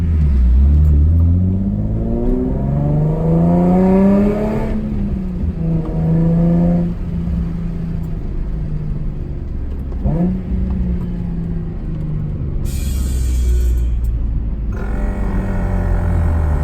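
A boosted Toyota FR-S sports car exhaust revs repeatedly, deep rumbling idle rising into several loud throaty swells and falling back, close by with no talking.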